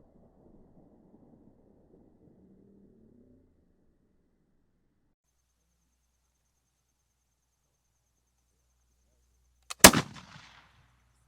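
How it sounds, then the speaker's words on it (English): A single loud musket shot cracks outdoors with a short echoing tail, following a long near-silent stretch after faint distant voices at the start. "shooting muskets, making lots of noise"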